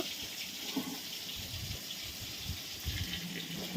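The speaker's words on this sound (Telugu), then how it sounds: "ఈలోపు గంజి వంచేస్తాను ఈ విధంగా గంజి వంచితే అన్నం చాలా బాగుంటుంది పొడి పొడిగా" Starch water from freshly cooked rice pours out of a tilted pot, a steady close watery gush and splash like a running tap that continues without a break.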